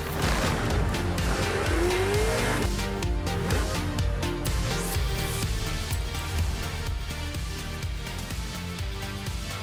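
A Volkswagen Golf R races in the video game Forza Horizon 5, its engine roaring loud and continuous with shifting revs, tire squeals and skidding mixed in, with no talk over it.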